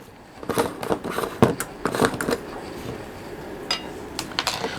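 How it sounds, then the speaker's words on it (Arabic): Soft clicking and light scraping taps as a kitchen gadget cuts a banana, an irregular cluster of small handling sounds, then a few faint clicks trailing off. "وانا مقطع اهو صباع موز"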